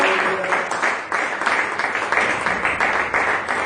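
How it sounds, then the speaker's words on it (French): A church congregation applauds in a steady, lively burst of clapping that fills the room, with some voices faintly mixed in beneath it. "Oh, donnons encore une acclamation."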